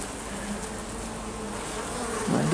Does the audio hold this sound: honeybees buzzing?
yes